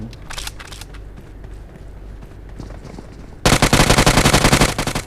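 Gunfire in the mobile game PUBG Mobile: softer scattered shots and footsteps give way to a loud, rapid burst of automatic fire that continues to the end.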